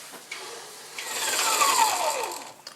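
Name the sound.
whisking whipped chocolate ganache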